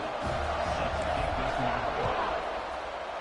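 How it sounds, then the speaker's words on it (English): A football stadium crowd roars before kickoff, a steady dense wash of cheering and noise with people talking over it. "this crowd now ready to get behind them"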